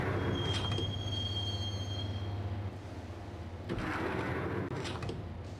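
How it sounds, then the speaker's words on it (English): Train ride in the Max Payne video game: a continuous low rumbling roll of rail cars with a long high wheel squeal early on and a brief thump and rattle later, steady and enveloping. "the train doors had already shut behind me, and I was in for the ride"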